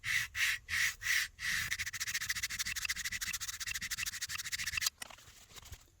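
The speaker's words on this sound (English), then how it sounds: "I'm gonna give just a very light sanding here where the frog sits" Light sanding strokes rubbing on the metal body of a Stanley Bedrock No. 604 hand plane where the frog sits, four distinct back-and-forth passes followed by a steady stretch of quick, even scrubbing, close up, then a quieter tail.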